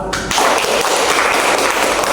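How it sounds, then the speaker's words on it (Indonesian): A group applauds at an Indonesian school social-work class event, a dense patter of many hands clapping that starts abruptly after a brief thump and continues steadily and fairly close. "Mari untuk tepuk tangan untuk Kak Lala."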